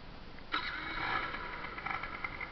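A 2008 Genuine Rattler 110cc scooter engine catches instantly with a sharp start, then settles into a steady, slightly uneven idle close by.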